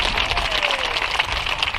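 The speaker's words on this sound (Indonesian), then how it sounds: "Semua tepuk tangan buat Tuhan Yesus." A church congregation claps steadily together in praise of Jesus, a dense, continuous patter of many hands filling the room at moderate loudness with no break.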